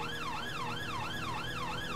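Fire engine siren wailing in a steady rising-and-falling sweep, about four cycles, loud and close, heard from the responding engine moving through building traffic, with no talk.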